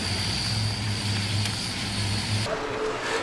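An airliner carrying 220 passengers makes a full belly landing with no landing gear at Warsaw Airport, a loud, continuous roar with a steady high whine that shifts abruptly near the end.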